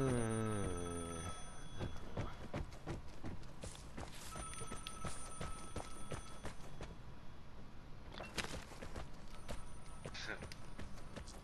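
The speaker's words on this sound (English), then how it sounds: "Should I pick up Donna's phone call" In the shooter game Vigor, a phone rings with a short electronic tone at the start, then gives way to loud, busy gameplay noise of running footsteps and clatter.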